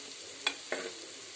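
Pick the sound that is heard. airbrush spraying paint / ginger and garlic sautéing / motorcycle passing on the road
ginger and garlic sautéing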